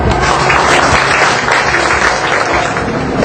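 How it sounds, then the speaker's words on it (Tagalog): Loud, continuous applause from an audience at an anniversary celebration fills the whole moment, dense clapping without pause. "Bigyan po natin sila ng palakpak."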